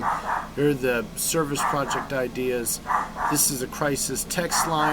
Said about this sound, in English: That's my dog there, my little Yorkie.